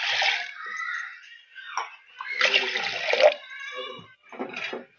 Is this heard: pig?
no